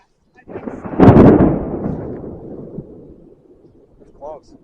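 Close thunder from a nearby lightning strike during a summer thunderstorm: a sharp crack bursts out and rolls into a long rumble that fades over a few seconds, with a brief voice toward the end.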